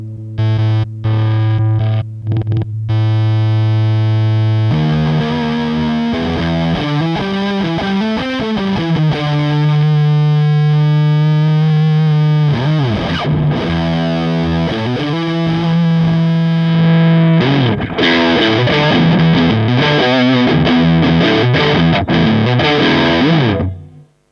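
A heavily distorted, fuzzy electric guitar through a Kemper Profiling Amplifier and Electro-Harmonix English Muffin pedal plays sustained notes and bends, then chunky chords, loud and close with no talking.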